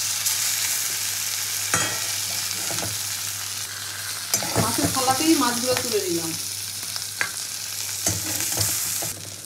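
Fish sizzle and crackle in hot oil in a home kitchen, a continuous close frying hiss with scraping stirs and clinks as pieces are lifted out, while someone talks over it.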